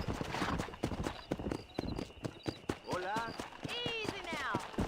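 Horse hooves clop in a quick, steady rhythm in the Western game Red Dead Redemption, with a whinny near the end. Voices talk over the riding.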